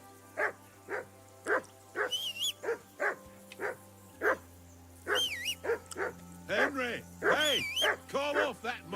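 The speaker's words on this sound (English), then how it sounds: "That barking was a pain in the ass." A dog barks and yips in repeated short bursts, fairly close, with a few higher whimpering cries among the barks, while a low steady hum runs underneath.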